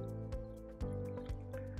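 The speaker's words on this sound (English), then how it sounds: "So you simply pour some out." White wine being poured into a wine glass, with a gurgling trickle and a few soft drips and splashes close by, no talking.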